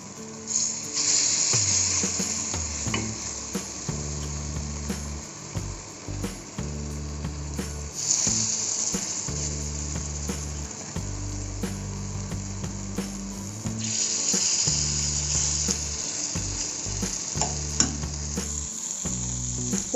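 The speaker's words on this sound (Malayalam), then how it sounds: "എണ്ണ ഇപ്പോൾ ചൂടായിട്ടുണ്ട്. നമുക്കിനി നമ്മൾ റെഡിയാക്കിയിട്ടുള്ള മാവ് ഇതിലേക്ക് ഒഴിച്ചു കൊടുക്കാം." Banana batter fries in hot oil in an unniyappam pan, a continuous bubbling sizzle with a faint high hiss that swells and settles in waves, close by and alone.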